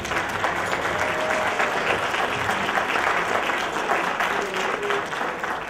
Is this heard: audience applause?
yes